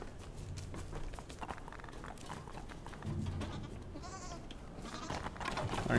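Goats bleat in the puzzle game Creaks, a few soft, thin calls over a busy low background with faint shuffling steps, quiet and somewhat distant.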